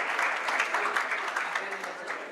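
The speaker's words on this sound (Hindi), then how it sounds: "तालियां।" Brief, lively applause from a seminar audience, a dense patter of many hands clapping at steady loudness throughout.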